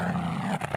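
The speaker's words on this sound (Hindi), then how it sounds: "जैसे जानवर वगैरह का गुर्राना" An animal growls in a low, rumbling, sustained snarl that breaks off near the end into shorter grunts, close and fairly loud, with no speech.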